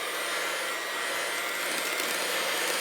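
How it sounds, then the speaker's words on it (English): An electric mixer whisks eggs into a keto cheesecake filling on low speed, a steady close-up whirring motor drone that holds evenly throughout with no talking. "we'll give this a nice whisk on low speed to start"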